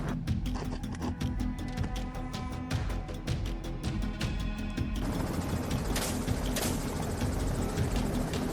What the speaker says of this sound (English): The helicopter circles, searching for new targets.